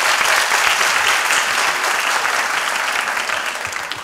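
Sustained studio audience applause from a Turkish comedy sketch show, dense and loud throughout, with a few faint voices mixed into the crowd.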